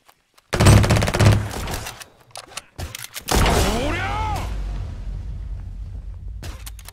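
Gunfire in the video game Apex Legends, including a sniper rifle shot: a burst of rapid shots followed by a heavy boom and a sweeping, warbling ability effect, loud and close.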